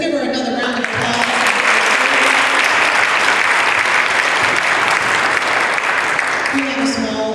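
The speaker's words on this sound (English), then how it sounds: "Let's give her another round of applause." An audience at a Rotary club meeting speech contest breaks into sustained applause, loud and close, dense clapping that holds steady for several seconds before tapering, with a voice speaking briefly at the start.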